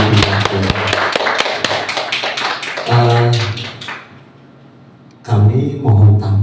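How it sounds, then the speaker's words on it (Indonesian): A small audience claps in sharp, close bursts: a brisk run of hand claps, a brief second burst, then a near-silent pause before another short round of clapping resumes. "Tepuk tangan kagum."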